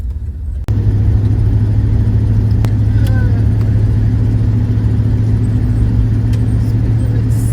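A van driving along a highway beside Okanagan Lake, heard from inside the cab as a steady loud road and engine rumble that continues after a brief knock near the start.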